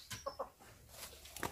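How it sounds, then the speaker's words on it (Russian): Purebred hens, including lavender English Araucanas, cluck in a handful of short soft calls from a backyard flock, faint and close together, with light background noise. "Здесь и куры боевые"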